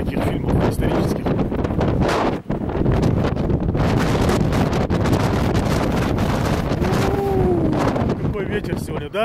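Strong wind at the foot of Teide volcano in the Canary Islands buffets the microphone in a loud, continuous roar with brief lulls, and voices are faintly heard.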